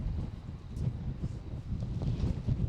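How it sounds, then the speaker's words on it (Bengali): Strong wind during a rainstorm in Saudi Arabia buffets the microphone in low, uneven rumbling gusts, with a faint hiss above and no voices. "দেখেন ভাই কি পরিমাণ বাতাস, প্রচন্ড বাতাস"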